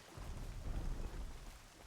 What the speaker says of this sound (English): Also, it started raining, which doesn't help the situation.